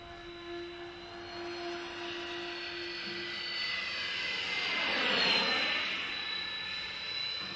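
Freewing 1700mm A-10 Thunderbolt II RC jet flying at about half throttle, a steady whooshing ducted-fan whine that swells as the model passes overhead with a clear pitch drop, then fades slightly, heard outdoors from a distance.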